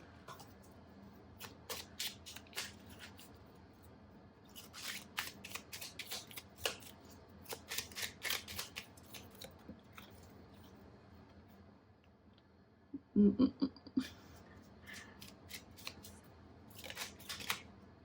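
Language of Flowers oracle cards are shuffled and drawn by hand. Several soft, quick riffling bursts come close-up in a quiet room, with a sharper card snap partway through and more shuffling after.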